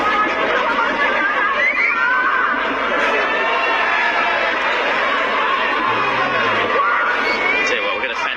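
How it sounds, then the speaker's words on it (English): A packed cricket stadium crowd at the Hong Kong Super Sixes final between Pakistan and South Africa keeps up a dense, steady murmur of chatter and excitement, with occasional laughs rising out of the hum. "we've got a fantastic crowd in here today. The place is humming at the moment"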